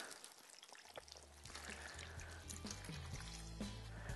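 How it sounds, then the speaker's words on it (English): Water poured from a container over speckled trout in a baking dish, a soft continuous trickle and splash building steadily and close by, with no talk. "We're gonna actually fill the fish up with water."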